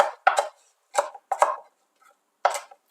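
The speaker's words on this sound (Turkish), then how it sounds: "Bunları minik minik doğruyorum şimdi" Fresh mint, parsley and dill finely chopped with a knife on a board, short bursts of quick crisp cuts separated by pauses, close and clear with no talk.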